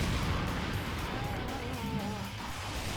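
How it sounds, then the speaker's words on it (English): A video game explosion booms with heavy low rumble and crackling debris that knocks enemies down, loud and close amid ongoing game noise. "that explosion knocked these guys on their butts"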